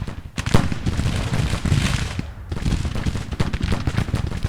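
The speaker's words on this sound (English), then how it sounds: "It looks like our artillery is now also opening up" Artillery fire in the Civil War strategy game Grand Tactician: The Civil War rolls as a dense string of booming, crackling blasts, loud and overlapping, with a brief lull midway before the barrage resumes.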